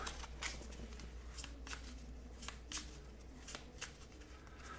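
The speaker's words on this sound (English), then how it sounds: "I'm shuffling up the Misfortune deck because this is the deck that drives the game against us" A deck of cards for the Atlantis Rising board game is shuffled alone, with a series of quick papery riffles and soft slaps repeating at a fairly close, quiet level.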